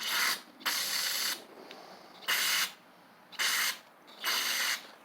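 Cleaner is sprayed into the air intake of a Huskee Supreme 50-inch riding mower with a Briggs V-twin engine, in four separate hissing bursts of roughly a second each, with quiet gaps between them.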